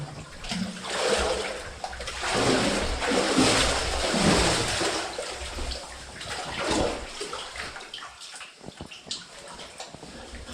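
Steady sloshing and splashing of someone wading through deepening water inside an abandoned lead mine later reworked for fluorite, close and continuous with a few louder surges.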